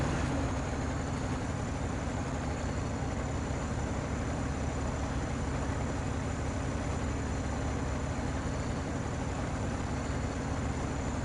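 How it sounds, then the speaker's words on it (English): Heavy truck engine in the off-road driving game Snowrunner, a steady low rumbling drone with constant broadband noise running throughout, loud and unbroken, no talk over it. "Listen to that engine."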